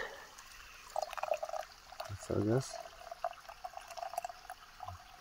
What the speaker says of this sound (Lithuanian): Pildom vandenį.